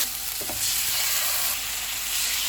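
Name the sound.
chicken pieces frying in hot oil in a pan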